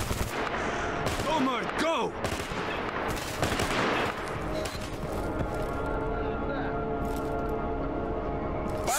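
Machine gun fire in the Stalker Clear Sky video game, repeated bursts of shots over a steady background din, with a voice calling out briefly.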